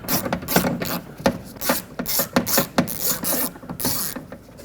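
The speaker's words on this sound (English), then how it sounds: "So I'm just going to sneak in an 8mm socket here with an extension on it and just unbolt these 2." Ratchet with an 8mm socket and extension unbolting the outer door handle bolts on a 2007-2010 Chrysler Sebring, a close series of rapid clicking ratchet strokes in uneven bursts.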